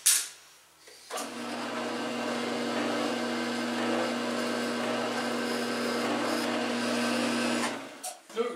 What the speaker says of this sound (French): je peux maintenant percer ce trou-là